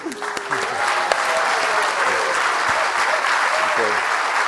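Studio audience applauding steadily in a television studio, a dense even wash of clapping that runs throughout, with a few brief voices and tonal sounds poking through the crowd noise.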